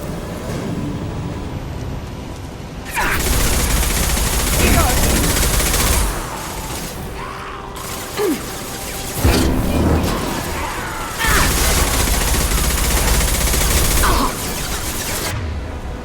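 Gunfire in the video game Mass Effect 2: dense sustained bursts of automatic fire that rise and fall in long loud stretches, with brief lulls between volleys and game voices mixed in.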